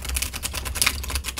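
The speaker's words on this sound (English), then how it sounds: "One more good shuffle and we'll hop in." A tarot card deck is shuffled in quick, rapid clicking riffles, a close crisp patter of cards with no voices.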